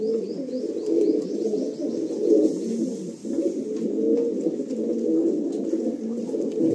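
Male pigeons in a loft coo in a steady, continuous low murmur of overlapping calls, close and fairly loud, with faint chirps above.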